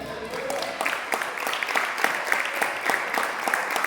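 A church congregation at a Portuguese-language evangelical service applauds steadily, many hands clapping in a continuous wash with distinct claps standing out, moderately loud and a little distant, with no speech.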